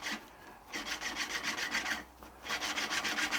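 Bronze injector valve from a Foden steam waggon being hand-lapped into its seat with an oscillating back-and-forth motion, a close, steady gritty rasping in repeated strokes with a brief pause midway.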